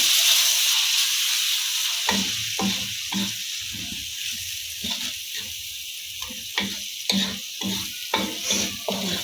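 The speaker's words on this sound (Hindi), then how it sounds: "इन सारे मसालों को हमने 2 से 3 मिनट तक अच्छी तरह भूनना है।" Spices and tomato paste fry in a pan for potato slices, a steady sizzle under repeated stirring scrapes that tap and scrape in an uneven rhythm, close and fairly loud, no voices.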